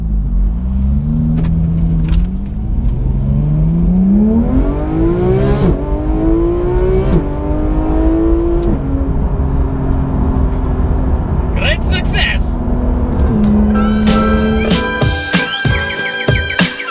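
A car pulls hard off a busy motorway hard shoulder, its engine revving up through several rising sweeps and gear changes, loud and close, with traffic noise and talk in the background toward the end.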